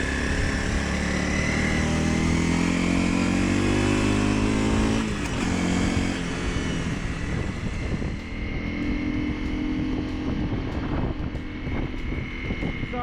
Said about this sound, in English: So as we're climbing the hill here through some of the corners, I can honestly say that it feels really good coming in and out of corners.